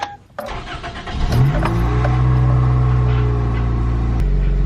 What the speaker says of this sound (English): She just starts right up.